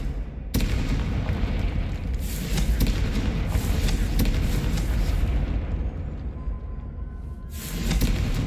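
A Confringo blasting spell goes off in Hogwarts Legacy, a sudden loud boom that swells into a sustained roaring rumble of fiery destruction, easing slightly before a second surge near the end.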